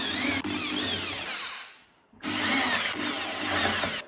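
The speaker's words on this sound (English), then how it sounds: "Some very gentle pilot holes now." Power drill boring gentle pilot holes through veneered chipboard furniture, two loud whirring bursts close up, the motor spinning down and briefly pausing between them.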